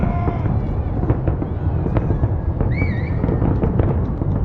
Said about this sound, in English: Firework time.